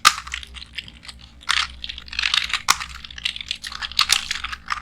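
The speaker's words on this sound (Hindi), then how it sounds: "तो मैं यहाँ पे मैं कुछ पहले टेक्स्ट टाइप कर देता हूँ" Keys clatter on a computer keyboard as text is typed, a close, irregular run of sharp clicks in quick bursts with brief pauses, no talk over it.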